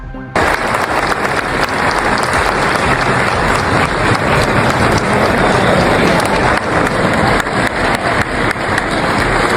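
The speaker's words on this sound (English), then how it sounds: "the Davos guests still gave Donald Trump a standing ovation" A standing ovation for Donald Trump at Davos, dense loud applause from a large crowd that starts abruptly and keeps going as an even roar throughout.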